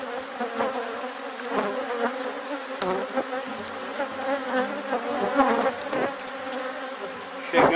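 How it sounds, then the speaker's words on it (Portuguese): Honeybees buzz steadily around an opened hive frame during a colony split, a dense, continuous hum with individual bees flying close past now and then, no talk over it. "Tem que ter cuidado para não levar a abelha rainha, já que a gente está trabalhando com abelhas aderentes."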